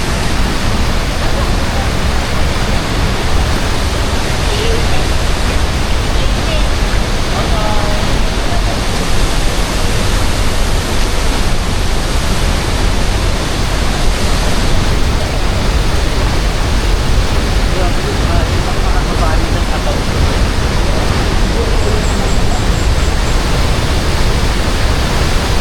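Tuasan Falls in Camiguin roars as a loud, unbroken rush of falling water that fills the whole stretch at close range, with no pauses.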